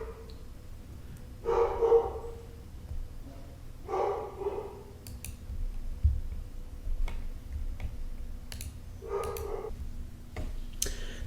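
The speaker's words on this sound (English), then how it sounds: "I've just had to pause because the dog was yelling" A household dog barks and yelps in several separate bursts at moderate distance, with a steady low background hum and occasional small clicks between the outbursts; no one speaks over it.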